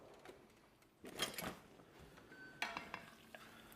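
A spoon scraping and clinking in a pan as chili and pasta sauce are mixed, with a few sharp metallic knocks and scrapes over a quiet background.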